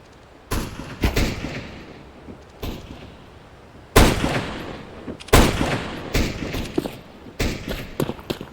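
Sniper rifle gunfire in the video game CS:GO: several sharp, booming shots spaced irregularly with ringing tails, loud and close, alongside other distant gunfire.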